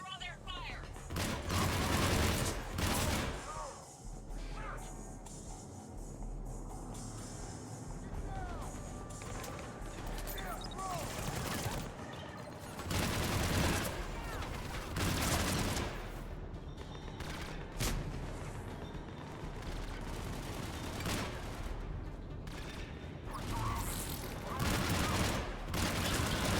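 Mass Effect 3 combat, with scattered gunfire volleys and impacts over continuous battle noise and squadmates talking over the fighting.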